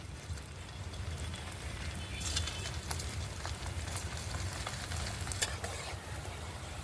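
Roll singaras deep-frying in hot oil, a continuous even sizzle and bubbling hiss with a few faint clicks, steady and close, with no talking.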